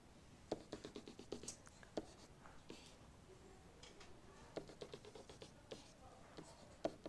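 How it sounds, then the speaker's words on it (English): Pen sketching a graph on paper, faint scratchy strokes and light taps in irregular clusters, close and quiet with no speech. "So if we start sketching this"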